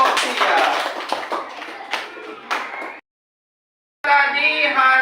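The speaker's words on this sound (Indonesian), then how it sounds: "kasih tepuk tangan untuk kelompok 3" A classroom of students claps for group three in a lesson, several seconds of brisk, uneven hand claps up close, then a sudden silence before a tonal voice or music sound comes in.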